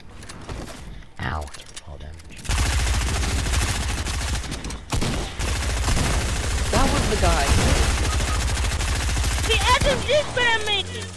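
In a Fortnite match, SMG bursts crackle in rapid, loud volleys that come in waves with short pauses, mixed with game effects and a few player voices.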